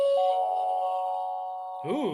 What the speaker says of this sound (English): So it does the chime.